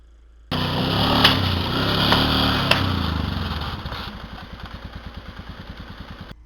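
A vehicle engine strains at high revs while it pulls a stump out of the ground with aircraft cable. After the load lets go, the engine drops to a lumpy, rhythmic idle with clattering, close and fairly loud.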